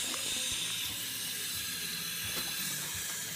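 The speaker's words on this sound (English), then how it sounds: "she's going to turn on a little water and wash off" Tap water runs steadily into a sink in a continuous close hiss, rinsing off a linoleum printmaking block.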